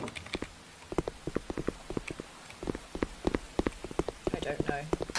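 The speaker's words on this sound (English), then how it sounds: "You can hear the rain outside." Rain falling outside in the dark horror video game Eggs For Bart, heard as irregular sharp drips and patters on a hard surface, fairly close, with a voice murmuring faintly near the end.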